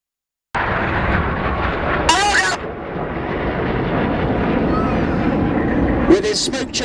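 Red Arrows jets performing a flying display roll manoeuvre, a loud continuous broadband roar sustained throughout, with a commentator talking over it on a public address.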